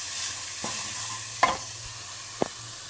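Ingredients are lightly sautéed in a hot pan, giving a steady close sizzle, with three sharp clinks of the spoon against the pan as they are stirred.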